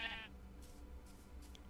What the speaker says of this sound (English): A ton of sheep.